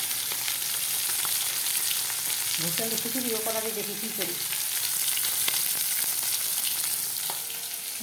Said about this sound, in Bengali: মাছ ভাজা হইতেছে, মাছ ভাজা হোক